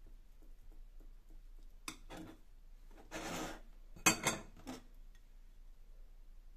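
A knife cuts through a hard-boiled egg cooked in an air fryer, giving faint soft scrapes and a couple of short clinks of a blade on a plate in an otherwise quiet kitchen.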